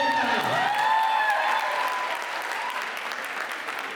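An audience at a university poetry mushaira in Lahore applauds, a full, steady roll of clapping that opens with a short vocal flourish and tone over it, then settles into even, slightly softer clapping.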